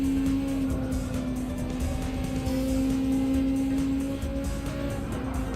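A steady race car engine drone from Gran Turismo 7 with side exhausts holds a constant pitch throughout, loud and close, with a faint buzzing overtone and no other sounds.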